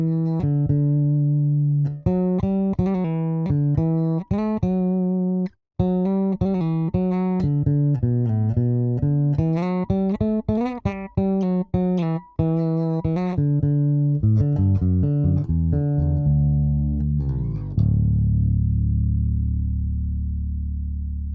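Overwater Progress Series IV five-string bass guitar played on the bridge pickup, a continuous run of plucked notes with a steady low rhythm, ending on a sustained ringing chord that fades out.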